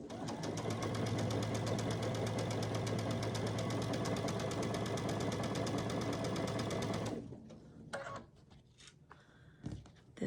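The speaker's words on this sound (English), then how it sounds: "instead of cutting my thread, I'm just going to keep sewing" A sewing machine chain piecing quilt pieces, stitching in a fast, steady mechanical whir for about seven seconds, then stopping and leaving scattered handling clicks and rustles close by.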